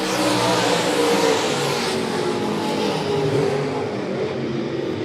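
Race cars at Monett Motor Speedway in green-flag racing roar together under acceleration, a loud, steady, continuous engine drone with rising pitch that fades slightly toward the end, no voices.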